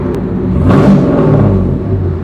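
A Volvo car engine revs up to a rumbling, whirring roar close by, swelling briefly and then holding a steady, loud idle-like drone with no talking.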